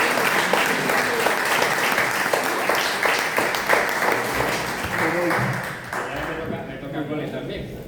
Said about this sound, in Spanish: a lo mejor le damos un aplauso